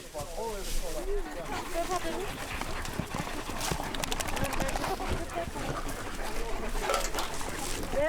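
Horse hooves clip-clop through the Forêt de la Coubre, with birds calling and people talking over the hoofbeats.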